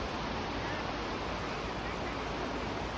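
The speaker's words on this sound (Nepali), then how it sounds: "यो मेलम्चीको खोला भयो।" The Melamchi river rushes along in an even, unbroken roar of flowing water, heard close and steady throughout with no voices.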